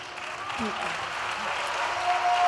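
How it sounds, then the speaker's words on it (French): Audience applause at a union gathering, a moderate continuous clapping spread across a crowd, somewhat distant, with voices faintly mixed in. "Donc on peut les applaudir"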